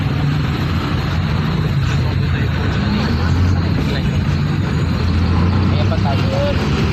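Steady road traffic in a congested street, with vehicle engines idling and rumbling close by, a continuous low drone throughout and people talking faintly over it.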